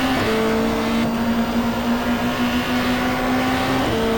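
Touring car engine in the GTR2 racing game at Calder Park, a steady loud droning whine held at high revs down the front straight, with a brief pitch shift near the start and end.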